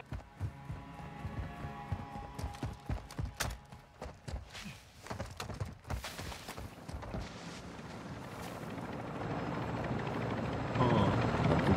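Helicopter in the game DMZ descending to a landing zone, its loud rotor chop beating in rapid, steady pulses that give way to a rising, whooshing engine roar; brief talk over it.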